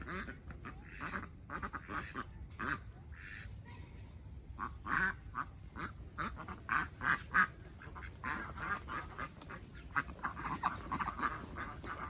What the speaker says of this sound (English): And now, the ducks are back.